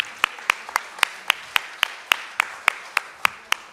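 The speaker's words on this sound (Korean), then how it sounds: "여러분 큰 박수로 환영해 주십시오." Clapping at a Korean book launch event sounds as evenly spaced, sharp claps in a steady rhythm, close and crisp, repeating about four times a second.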